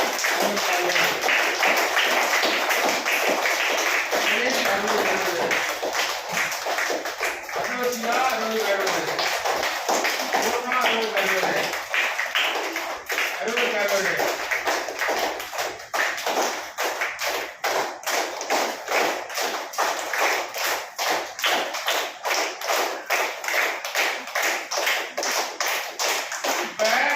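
A classroom of students claps for classmates who scored full marks, a long continuous burst of brisk hand claps that thins into a steadier patter, with voices mixed in.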